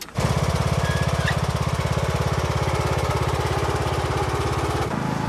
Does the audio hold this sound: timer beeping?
no